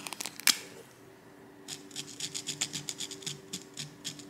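An art pen scratching across a canvas fabric tote, a few quick scrapes and a sharp click at first, then a run of rhythmic rough strokes close by after a short pause.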